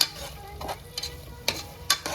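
Fresh yogurt being stirred into chicken biryani masala in a pan, a close sizzle with a few sharp spoon scrapes and clinks against the pan between quieter stretches.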